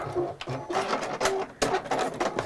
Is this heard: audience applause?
no